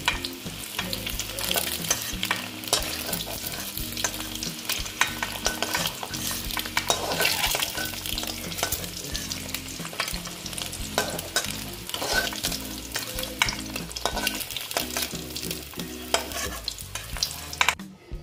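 Potatoes fry in hot oil left in the pan after frying eggs for an egg curry, a steady dense sizzle heard close up with frequent scraping and stirring of a spatula, no talk.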